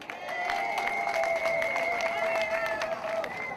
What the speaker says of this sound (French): Pour cela, vous devez vous saluer et vous applaudir.